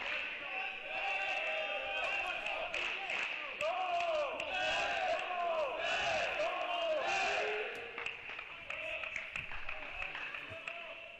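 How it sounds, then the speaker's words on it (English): A crowd cheers loudly at a college men's tennis match between MTSU and SMU, with shouts and whoops that swell and then fade while voices call out over it. "The crowd at the Cathedral is getting loud behind their boys in blue."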